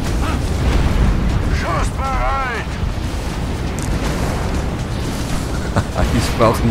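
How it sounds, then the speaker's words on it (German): In Enslaved: Odyssey to the West, the main cannon fires with heavy booming blasts and mechanical rumble amid loud game noise, while a voice talks over it. "Ich feuere die Kanone ab."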